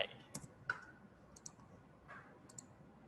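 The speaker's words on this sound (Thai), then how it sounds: "แล้วก็ พิมพ์บิ๊กตู่ไป" Typing on a computer keyboard while writing code, a handful of sparse, quiet key clicks in an irregular rhythm, close and otherwise near silent.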